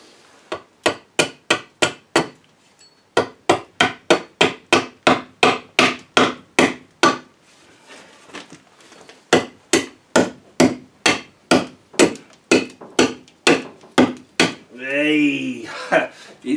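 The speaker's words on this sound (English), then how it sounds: "I'm gonna try and use this as an axe again." Repeated heavy chopping blows from a hardfaced steel axe striking Iroko timber, a steady series of sharp thwacks with a brief pause midway and a short burst of talking near the end.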